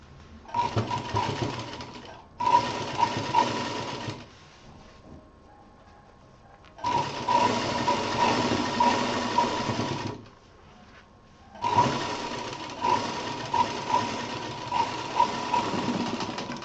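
A sewing machine stitches piping along one side of a fabric piece in several steady bursts, each a few seconds long, separated by short pauses. The whirring is close and fairly loud, and no one speaks.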